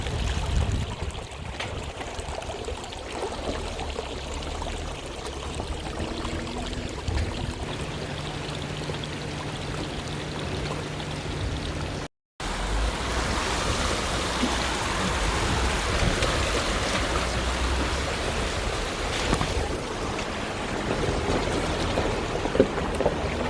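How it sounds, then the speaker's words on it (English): Off-road vehicle crossing a small creek on a trail at an off-road park, a steady loud wash of rushing, splashing water with engine rumble underneath, continuing throughout with one brief cut midway. "We're going to head down a little creek crossing"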